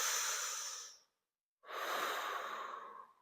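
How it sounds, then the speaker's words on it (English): Two long, deep breaths during a yoga session, each a steady airy rush lasting about a second with a brief silent pause between, close and clear with no talking. "I want you to give me 2 deep belly breaths"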